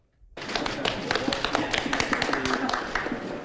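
The president claps at a science briefing on fine-dust monitoring, with the sharp claps standing out from a small group applauding nearby, while a narrator speaks over them.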